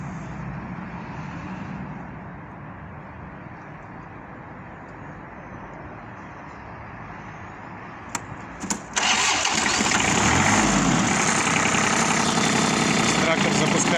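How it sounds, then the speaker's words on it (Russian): An ISEKI TM15 diesel tractor in minus 22 degree cold in Krasnoyarsk hums quietly at first, then catches with a brief clatter and settles into a loud, steady, even idle. "Давайте запустим, слушаем, как работает."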